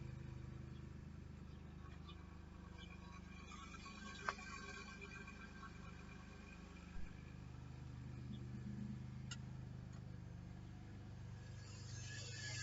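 A Chevrolet Camaro engine and exhaust idle steadily after a fuel pump replacement, a low, even rumble that holds faint and constant, with a couple of brief clicks.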